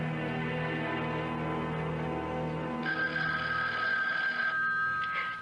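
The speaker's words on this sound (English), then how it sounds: "Do something about that confounded phone" Telephone bell ringing in an old CBS Radio Mystery Theater drama, entering partway through as a bright sustained ring over a steady music bed.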